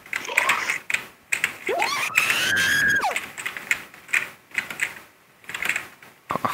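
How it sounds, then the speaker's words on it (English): A character's scream in the Roblox game Murder Mystery 2, a rising, sustained shriek lasting about a second amid rapid clicking and tapping sounds. "Why do people scream all the time?"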